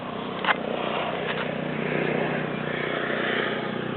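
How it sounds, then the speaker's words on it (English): Low-flying helicopter passing overhead in cloud above a hillside, a steady muffled rotor rumble that fills the scene continuously at moderate loudness. "there's a low-flying helicopter of some description in the cloud just above us"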